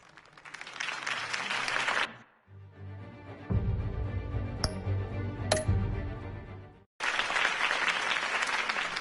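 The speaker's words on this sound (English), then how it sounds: "could have heard that applause" Bursts of crowd applause in a Batman video game clap loudly, separated by a stretch of quieter music-like tones with two sharp chimes, then the clapping swells back.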